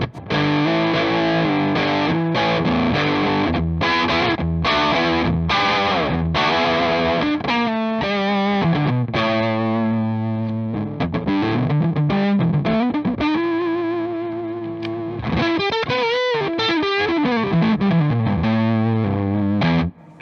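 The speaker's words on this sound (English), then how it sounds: "But I tell you what, focus down and fuzz all the way up." An electric guitar runs through a Great Eastern FX Focus Fuzz pedal set with focus down and fuzz at maximum, giving a loud, dense, saturated tone that plays sustained notes and sliding phrases for about twenty seconds without talk.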